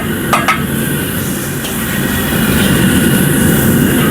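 Fermented soybeans tossed into minced pork stir-frying in a hot pan, a steady loud sizzle and hiss with a couple of brief scraping clatters near the start.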